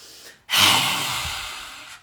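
A long, close exhale during a qi gong exercise, an airy rush that begins abruptly after a brief pause and fades slowly over about a second and a half, alone without speech.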